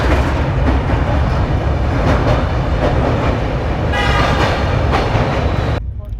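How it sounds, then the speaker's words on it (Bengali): An LHB passenger train runs at about 130 km/h between Dankuni and Kamarkundu, heard from inside the coach as a loud, constant rolling roar with rail clatter, and a horn sounds briefly near the end. "তো আমাদের ট্রেন কিন্তু এখন 130, 131-এ টানছে।"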